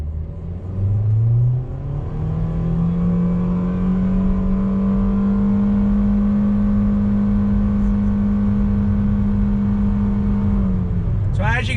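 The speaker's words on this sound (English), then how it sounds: "Acceleration test from a dead stop" A 2020 Nissan Versa SR accelerating at full throttle from a dead stop, its engine rising quickly and then holding a steady high drone without shifts, heard loud from inside the cabin until a brief clatter at the end.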